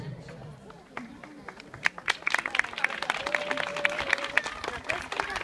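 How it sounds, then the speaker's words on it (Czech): Audience applause at the Zázraky vína 2015 wine event in Nové Strašecí starts thin and scattered, then swells after about two seconds into a dense, moderately loud patter of many hands, with a voice talking over it. "Tak, pozor, jako tohle nebylo nic moc, jo. Takových potlesků už holky zažily."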